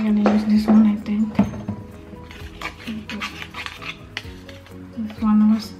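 Chocolate chip cookie dough with walnuts being stirred and mixed in a bowl, with clinks and scraping strokes while a voice sounds intermittently.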